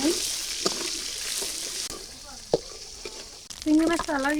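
Sizzling and crackling of shrimp frying in oil in a wok, with clattering stirring sounds and a voice speaking over it toward the end.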